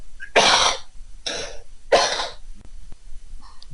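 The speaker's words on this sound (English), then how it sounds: "That was me coughing." One person coughs three times in quick bursts, close and fairly loud, with short quiet gaps between and faint breathing afterward.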